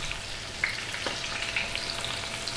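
Onions, two cups of them, going into a hot pan for lamb shanks, giving a steady, close sizzle and crackle with a few brief scraping knocks as they land and are moved.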